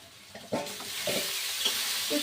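Green chilli, onion and boiled potato hitting hot oil in a pan: a sudden rush of hissing sizzle with a few stirring scrapes, close and steady over about two seconds, with no voices.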